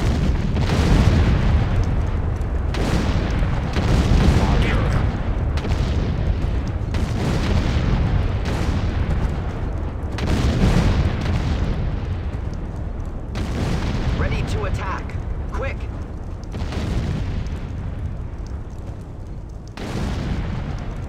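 Artillery fire and explosions from the PC strategy game Sudden Strike 2 roll out as repeated heavy booms and bursts, with voices speaking between the blasts.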